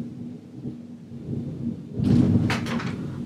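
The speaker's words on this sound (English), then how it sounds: "oh, thunder." A low, distant rumble of thunder builds quietly and swells toward the end, with some faint rattling on top and no voices.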